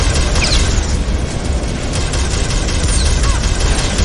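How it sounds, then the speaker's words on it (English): A power node explodes in a video game with a loud, dense rumble of blasts that continues without pause. "Red power node destroyed"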